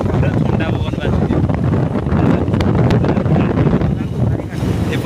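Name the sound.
cold wind blowing near the seashore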